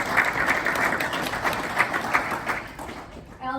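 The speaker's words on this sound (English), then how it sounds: "So please everybody give them a round of applause." An audience applauds a panel with a steady burst of clapping that stays even and moderately loud before thinning out at the very end.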